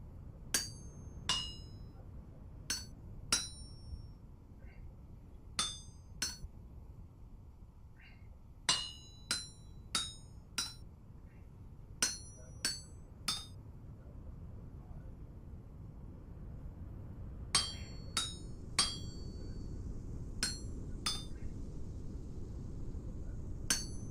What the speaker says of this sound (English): And now we can go do the hammer, and I will be happy.